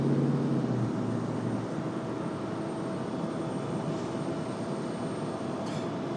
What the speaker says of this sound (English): Nice shot of the American 777 pushing back again.